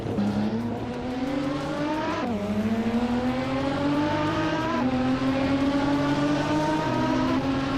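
Pagani Zonda GR race car engine in a racing video game, a steady high-revving drone that climbs in pitch, dips on each gear change and climbs again, with a faint squeal of tires.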